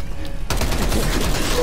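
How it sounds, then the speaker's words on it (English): Gunfire from a sniper rifle aimed at zombies in a video game, a dense burst of loud shots beginning abruptly after a quiet start and continuing steadily to the end. "You're literally using a fucking sniper rifle on zombies."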